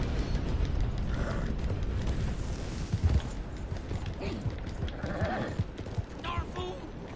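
An old-west mare from Red Dead Redemption 2 clip-clopping along at a steady walk, hooves soft and fairly close, under continuous talk from a man with scattered game ambience.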